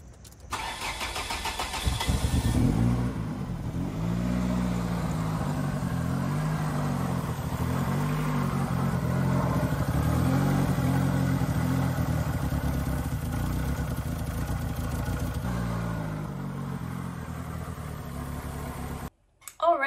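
A 2002 Ford Focus engine cranks and starts after an oil pan replacement, then settles into a steady, loud idle that runs for many seconds before cutting off near the end.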